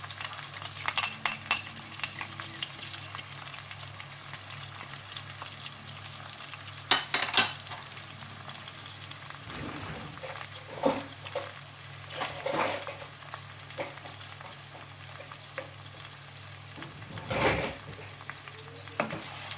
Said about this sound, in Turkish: kavrulana kadar karıştırıyoruz